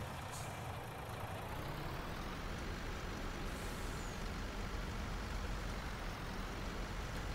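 A semi truck in Farming Simulator 19 gives a steady low engine drone with a brief hiss of air brake near the start, faint and continuous without talk.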